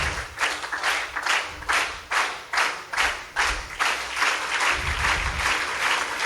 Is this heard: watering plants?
no